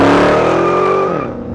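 A 2022 Dodge Challenger SRT Hellcat Widebody Redeye does a launch-control start at 2,000 RPM, and its tires squeal loudly for a second and a half as the car slides sideways, with a pitched howl that drops off near the end.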